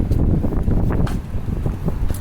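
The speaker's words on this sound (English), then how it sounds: "hopefully this horrible wind" Strong gusting wind blows along a street in Halifax's North End on a cold day, buffeting the microphone with loud, rumbling low roar and uneven surges, close and continuous with no talk.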